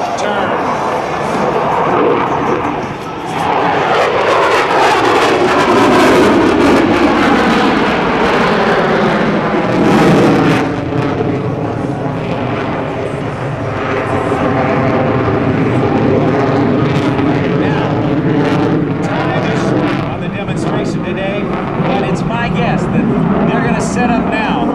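An F/A-18F Super Hornet jet roars loudly through a tight minimum radius turn at an airshow, its engine noise sweeping and shifting pitch continuously over a public-address announcer talking.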